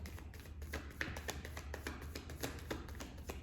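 Quiet, close riffling and tapping of tarot cards being shuffled, a rapid series of soft flicks and snaps.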